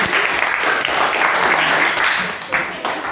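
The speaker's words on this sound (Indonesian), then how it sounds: "kita beri tepuk tangan untuk" A classroom of students applauds a classmate, giving a thick, steady wash of close clapping that holds for a few seconds and then thins slightly toward the end.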